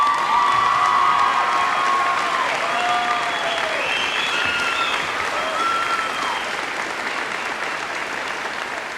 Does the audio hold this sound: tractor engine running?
no